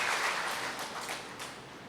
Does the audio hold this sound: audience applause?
yes